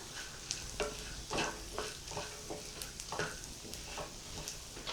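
Poha mixed with chilli powder, salt and asafoetida is stirred in a hot pan, the spoon scraping in repeated rhythmic strokes over a soft, continuous sizzle, close and fairly quiet.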